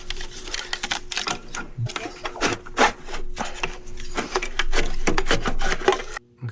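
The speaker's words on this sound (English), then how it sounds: "I'm just going to remove these DME plugs" Wiring connectors on the DME of a BMW F90 M5 are worked loose by hand, producing a dense run of close plastic clicks, rubs and scrapes that goes on nearly without pause and then stops abruptly at the end.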